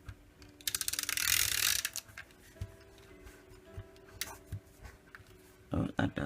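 A Stampin' Up Snail adhesive roller rolls glue onto a 4 by 5 1/4 inch card piece, giving quick, close, clicky ratcheting bursts with desk taps and paper handling between them.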